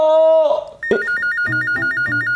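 A telephone rings with an electronic melodic tone, loud and close, in a repeating pattern of pulsed notes.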